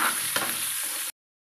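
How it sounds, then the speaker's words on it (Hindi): Mango chutney mixture stirred in a hot pan: a spoon scrapes through the sizzling fruit and spices with a brief knock, close and steady, then sound stops abruptly. "अब इसे एक बार मिक्स कर लेंगे।"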